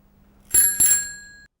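A bicycle bell rings twice in quick succession, two bright metallic strikes with a shimmering ring that fades out, loud and close against a quiet background.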